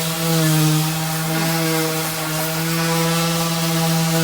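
A power sander grinds steadily across a teak boat deck with a loud, close, continuous droning buzz and a strong hum that rises and dips slightly as it moves, with no pauses.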